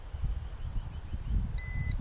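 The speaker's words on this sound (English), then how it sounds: "that's the radio that's beeping" A single short electronic beep from the radio transmitter of a Yu Xiang F180 GPS drone sounds briefly over steady outdoor wind noise.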